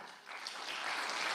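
An audience applauding at a talk on living a beautiful life, a soft, even wash of many hands clapping that builds slightly and continues steadily, heard from a distance without any voices over it.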